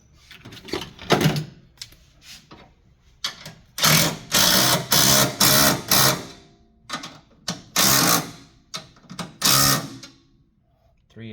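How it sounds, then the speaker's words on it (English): A 3/8 inch impact wrench whirs and hammers in repeated short bursts while parts are fitted on a 2007 BMW Z4 E85 strut tower brace, close and loud, with pauses between bursts. "3/8 impact."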